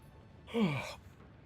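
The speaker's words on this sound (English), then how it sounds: "Pardon the yawn." A single tired yawn from a person, a drawn-out breathy exhale with a falling voiced tone lasting about half a second, close and fairly quiet.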